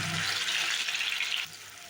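Thinly sliced banana stem fries in hot oil in a kadai, a loud, dense, steady hiss that abruptly drops to a softer sizzle after about a second and a half.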